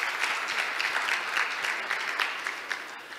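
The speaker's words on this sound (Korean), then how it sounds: "저는 개인적으로 다시 한번 박수 한번 좀 드렸으면 좋겠습니다" Audience clapping for a visiting professor at a keynote discussion session, a dense steady wash of many hands that fades slightly near the end.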